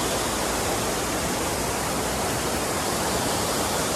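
A waterfall along the hiking path to Olpererhütte in the Austrian mountains, a broad, constant roaring rush of falling water heard up close and loud, steady throughout with no voices.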